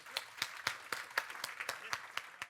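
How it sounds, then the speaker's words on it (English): Audience applause for a guest named Theo, a steady run of sharp, evenly spaced claps, close and fairly loud, sounding like a small group clapping together without voices. "a round of applause for Theo"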